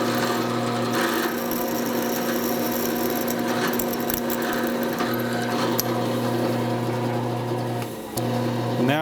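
A power tool drives a countersink into a machined arbor for a Syracuse spindle sander, giving a steady, loud motor whine with a constant hum that dips briefly near the end.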